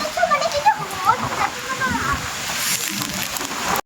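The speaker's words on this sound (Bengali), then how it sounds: "বাইরে ঝড় বৃষ্টি সব একসাথে উঠেছে" Heavy rain from a storm outside a home, a steady wet rushing and splashing wash that fills the whole clip, loud and close with cold wind, and no talk over it.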